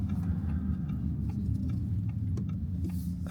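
An Audi A6 e-tron's turn signal ticks in a steady rhythm inside the car, close and distinct over a low road and cabin hum, with no talking.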